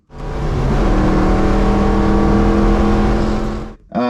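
A 1982 GT barn find with newly fitted 4.10 rear gears, its engine droning steadily and loudly from close by as the car drives at an even pace, then cutting off abruptly before a brief restart of noise.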